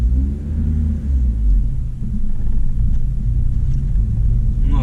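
A car engine running on ethanol turns over and idles with a loud, close, steady low rumble that holds evenly throughout, with no talking.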